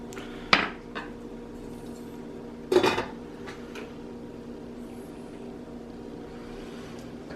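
A metal lid is set onto a pot of rice on the stove, giving two sharp clanks a couple of seconds apart, the second a rattling settle, over a low steady hum.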